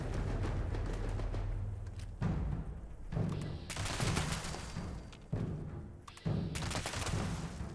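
Rapid automatic weapon fire from the video game Fallout 76, several loud sustained bursts separated by short pauses, with no talk.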